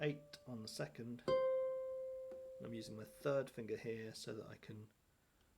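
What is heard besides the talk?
None of the usual background noises is heard.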